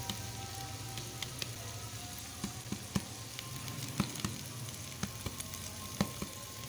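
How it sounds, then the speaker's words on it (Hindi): Onions frying in hot oil in a home kitchen, a steady low sizzle with scattered soft pops and stirring clicks, fairly quiet and even throughout with no talking. "अब अम्मी प्याज डाल रही हैं।"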